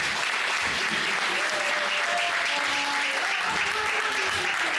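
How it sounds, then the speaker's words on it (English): An audience gives a sustained, steady round of applause for the host of a community gathering at Biggz Kitchen in Croydon, with faint voices and tones threading through the dense clapping. "give a round of applause to the host"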